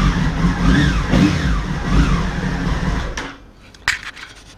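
A motorbike engine, just fitted with a repaired ignition switch, runs with a steady mid-pitched drone for about three seconds, then cuts out, followed by a few faint clicks and knocks.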